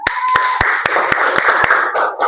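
Short, sharp claps ring out in an Indonesian chemistry classroom, loud and close against a busy room hubbub, with a brief high tone at the start.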